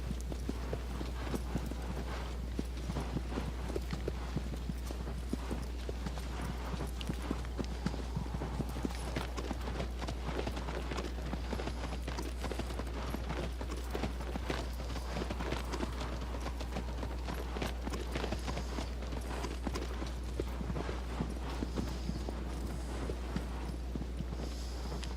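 Horse hooves in Shadow of the Colossus, a steady, fast clip-clop of galloping that continues throughout over a constant low hum, with no voices.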